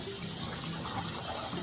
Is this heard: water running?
yes